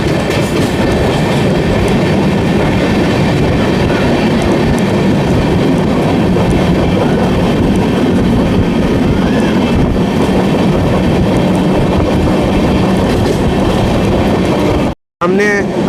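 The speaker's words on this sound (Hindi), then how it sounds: "कुम्हारी स्टेशन स्किप कर रहे हैं और फाइनली थोड़ा एक्सेलरेशन हो रहा है।" Amrit Bharat Express rolling through Kumhari station on the Brahmapur–Udhna run, heard from on board: a loud, steady rumble with rhythmic clickety-clack of wheels on rail joints as the train picks up speed, ending in a brief dropout.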